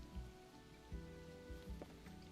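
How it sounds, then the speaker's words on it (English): Rain falls in the Planet Coaster 2 video game, a soft steady patter with scattered drop hits, quiet and continuous under faint game ambience. "It's raining."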